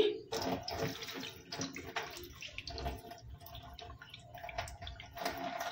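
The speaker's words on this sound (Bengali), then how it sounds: "জলটাকে ফেলে দিচ্ছি।" Water is poured off lentils for dal that soaked for two hours, making a quiet, uneven splashing trickle with small drips over several seconds.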